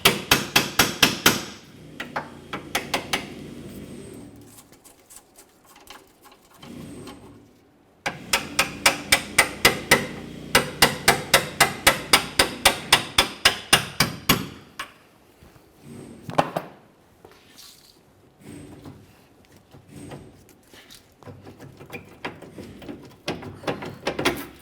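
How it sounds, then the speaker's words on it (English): A hammer strikes a nut threaded onto a frozen rear shackle bolt on a 2001-2005 Ford Explorer Sport Trac, giving sharp metallic bangs in rapid bursts of many blows separated by short pauses, close and loud, with no talking. "give it a couple loving bonks to break it free"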